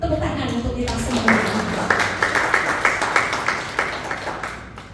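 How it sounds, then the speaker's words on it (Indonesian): A church congregation claps in applause during a sermon, a brisk run of hand claps rising after a spoken lead-in and continuing steadily to the end, with voices underneath. "Tepuk tangan untuk kita semua."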